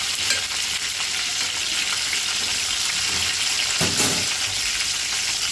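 Stuffed brinjals frying in hot oil in a pan give a steady, close sizzle and crackle that continues without a break, with a brief stir or clatter partway through and no talking.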